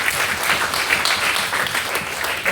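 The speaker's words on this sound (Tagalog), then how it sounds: "Masigabong palakpakan para sa ating Diyos." A church congregation claps together during a Sunday service, a dense, steady wash of many hands at moderate distance, filling the space without pause.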